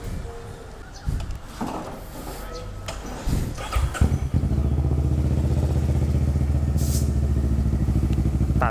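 A Kawasaki ER-6n motorcycle clatters and starts, then settles into a loud, steady close engine drone as it is ridden, with some talking over the early part.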